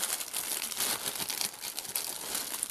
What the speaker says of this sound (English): sorry if there's a lot of background noise right now. I'm digging for snacks